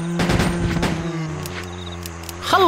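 Rapid bursts of gunfire from Claire's weapon in Resident Evil Code: Veronica X, loud sharp shots packed together over the first second, then fading under game tones and a rising electronic whine.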